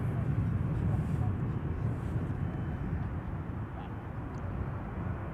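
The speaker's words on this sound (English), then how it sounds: "737-800 arriving from Innsbruck in Austria." A Transavia Boeing 737-800 landing at Amsterdam Schiphol, arriving from Innsbruck: a loud, steady, broadband jet roar that holds evenly throughout, with faint talk mixed under it.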